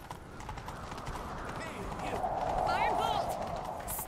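A horse in a fantasy role-playing video game gallops with rhythmic hoof clip-clops, joined midway by a whinny, while people talk over the game sound.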